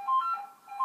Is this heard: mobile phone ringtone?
yes